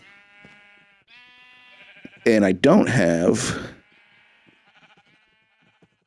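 Sheep in the video game Minecraft bleat in a loud, wavering call lasting over a second, preceded by softer tonal game sounds, with someone briefly talking around it.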